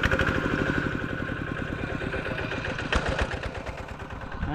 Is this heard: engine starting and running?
yes